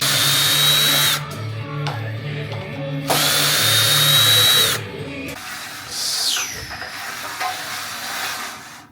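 A power tool cuts through steel C-channel up close, loud grinding bursts with a high whine alternating with brief pauses, then a hissing, screeching cut trailing off toward the end.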